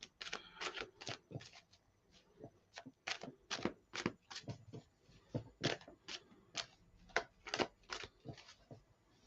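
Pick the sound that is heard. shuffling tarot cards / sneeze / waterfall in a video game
shuffling tarot cards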